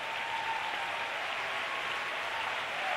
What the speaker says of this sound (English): We honor you with a clap.